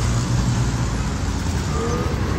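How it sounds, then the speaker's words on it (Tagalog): Morning street traffic in Davao City. A steady wash of passing cars and heavier vehicles sits fairly close, with a faint rising whine near the end and no speech. "Traffic."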